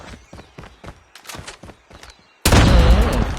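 A series of rhythmic thuds and footsteps gives way to a sudden loud, broad explosion blast that rumbles on to the end, in Call of Duty Mobile.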